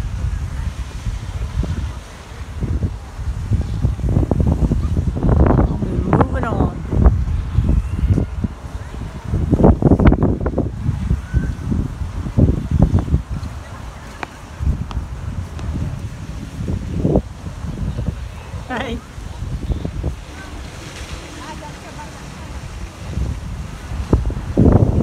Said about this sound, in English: It's just too cold and windy.